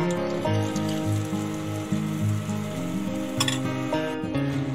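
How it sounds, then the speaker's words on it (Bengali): A battered pumpkin flower fritter sizzles steadily in hot oil, a close, continuous frying crackle under a layer of background music. "এবার আমি গরম তেলে এটিকে দিয়ে দিচ্ছি ভাজার জন্য।"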